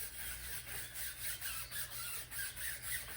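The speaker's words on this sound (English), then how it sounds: "And you simply start scrubbing." A stiff brush scrubs a car tire coated in tire cleaner, rhythmic back-and-forth rasping strokes about three per second, close and steady with no talk.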